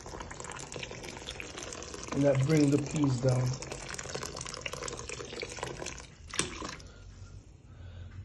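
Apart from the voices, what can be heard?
pot of peas boiling on the stove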